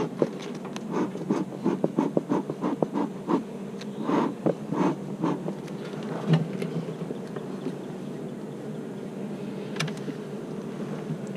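Honeybees in a long hive drone in a steady low hum, with a few closer, sharper buzzes flicking past in the first half before the sound settles to an even murmur.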